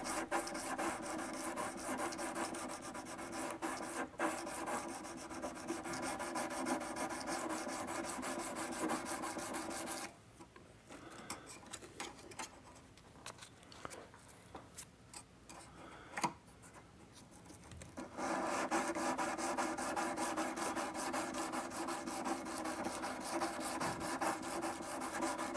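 Sandpaper shapes the top of a guitar fret during archtop fret work, a steady close scratchy rubbing that stops for several seconds of quieter light scraping, then resumes with even strokes.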